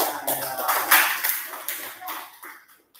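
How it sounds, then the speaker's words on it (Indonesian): A sixth-grade elementary class breaks into vigorous clapping, dense bursts of many hands near and fairly loud, tapering off in the last moments, with some talk mixed in. "Di kelompok 3 ini tepuk tangan yang keras."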